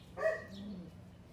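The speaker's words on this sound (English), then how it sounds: "And here, Watson, barking at squirrels" A dog gives a single short bark in a garden bed, the sound moderately near and fairly quiet against a soft outdoor background with no talking.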